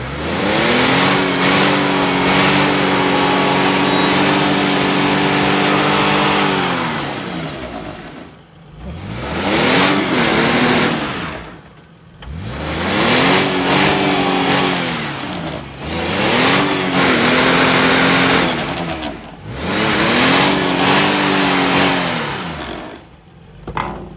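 A Jeep doing a burnout with its engine revving wide open, held at a loud high-rev roar for several seconds, then dropping and surging again in three more long bursts, close and loud with no talking.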